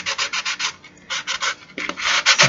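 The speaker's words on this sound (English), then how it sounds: "I'm going to sand this piece down" Light hand sanding of glued wooden tumbling tower blocks, heard as repeated rhythmic rasping strokes with short pauses between them, close and loud, with no voices.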